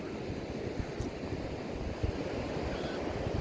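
Wind and surf along a beach during a walk, a steady broadband roar of gusts and breaking waves with low rumbling buffets on the microphone, continuous and fairly close, no voices.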